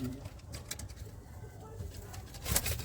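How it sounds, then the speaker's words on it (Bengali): Low, throaty cooing comes from a male black-eyed pigeon, quiet and near, while a voice talks intermittently over it and a brief rustle flares near the end. "এটা কালো দানা চোখের নর পায়রা।"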